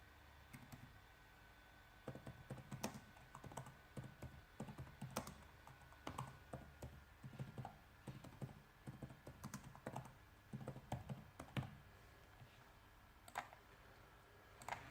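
Someone types a project name on a computer keyboard: quiet, irregular bursts of close key clicks and taps over about fifteen seconds, with short pauses between runs.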